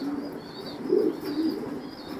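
Racing pigeons coo softly inside a pigeon loft, a few low rolling calls close by over faint background hiss, with no talking.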